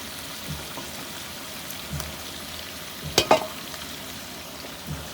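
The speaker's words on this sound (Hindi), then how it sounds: "अच्छी तरह मसाले को भून लेते हैं।" Ginger, garlic, coriander, chillies and turmeric masala frying with liver in a pan, a soft continuous sizzle with a few sharper stirring clatters midway.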